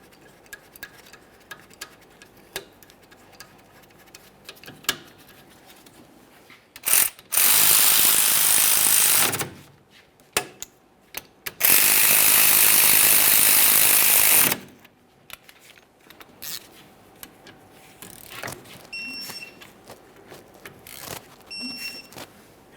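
A ratchet clicks in fast bursts while caliper slider mounting bolts are snugged up on the rear brakes of a 2007-2013 Acura MDX, two long loud runs of ratcheting separated by quieter tool handling and scattered clinks.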